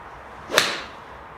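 One sharp swishing crack from a TaylorMade SIM MAX golf iron striking the ball thin, quick and close, over quiet background hiss.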